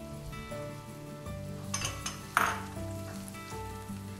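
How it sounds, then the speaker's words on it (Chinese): Garlic and dried shiitake slices stir-frying in oil in a dry wok, a steady sizzle with a few clinks and scrapes of a spatula against the pan midway. "干锅倒入油，然后放入蒜米，把蒜米炒香，接着放入冬菇片，把冬菇片炒香。"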